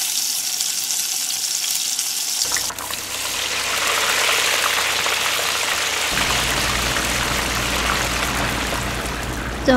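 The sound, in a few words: water being poured into a cooking pan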